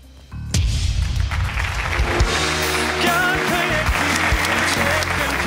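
A studio audience at a televised pop singing contest breaks into loud sustained applause and clapping that begins abruptly and holds steady, with music and a voice running underneath.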